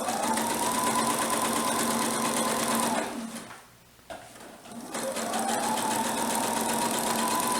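A sewing machine run by foot pedal stitches a quilt, its motor whirring in a steady fast hum, pausing briefly in the middle, then starting up again and running on.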